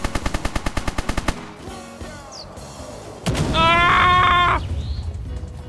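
Modded Mount and Blade battle with massive guns: a rapid loud burst of repeated cannon or gun shots, then a pause and a second sustained roaring volley with dense mechanical firing.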